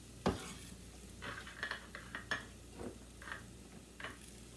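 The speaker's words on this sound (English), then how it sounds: "Now let's put the onions and the carrots in here carefully without making a mess." Onions and carrots tipped into a cooking pot during a home dinner prep: a series of soft clattering thumps and scraping stirs over a faint sizzle, spaced irregularly and fairly quiet.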